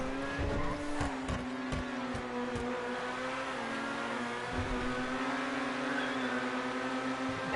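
In a GTA Online stunt race, a car slides while its tires squeal over a steady, droning engine note, the screech rising and wavering across several seconds, close and continuous.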